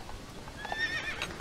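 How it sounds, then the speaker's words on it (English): A horse whinnies in the Old West survival game Heat Old West, a short, clear neigh standing alone over faint background ambience, with no talk over it. "I hear a horse whinny."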